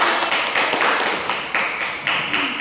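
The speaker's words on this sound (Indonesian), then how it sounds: "tepuk tangan untuk Dewi" A small classroom audience claps for a student presenter during a micro-teaching lesson, a steady patter of hands with rhythmic bursts near the microphone.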